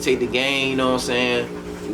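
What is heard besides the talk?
No distinct noise like a dog, phone or traffic.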